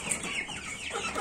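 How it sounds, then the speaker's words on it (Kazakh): Three-month-old chicks cluck and chirp softly at close range in a short burst of farmyard poultry chatter. "Мінекей 3 айлық балапандар"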